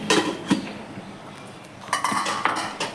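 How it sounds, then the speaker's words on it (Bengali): A metal lid clanks down onto a pot of cooking bottle-gourd greens, with sharp clinks and rattles at the start and a second cluster of clatters a moment later, close and fairly loud. "আবার আমি এটাকে ঢাকা দিয়ে দিলাম।"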